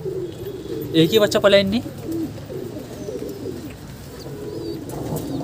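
Pigeons in a rooftop breeding loft coo in low, rolling calls, a close cluster of coos rising loudly near the start and then softer cooing continuing while someone talks.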